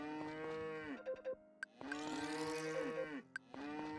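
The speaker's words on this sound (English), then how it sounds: "Some cows real quick." Cattle in the Story of Seasons: Friends of Mineral Town farming game moo several times in a row, each call a loud drawn-out low moo with short pauses between, no talking.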